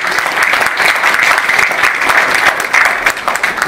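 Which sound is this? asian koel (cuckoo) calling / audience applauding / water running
audience applauding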